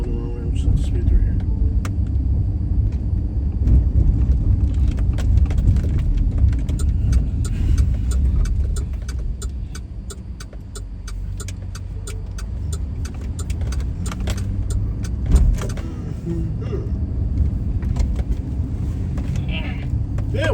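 A car speeds through a parking lot in Charlotte, North Carolina, its engine a loud, steady low rumble heard from inside the cabin, with faint rattles and clicks over it and people talking throughout.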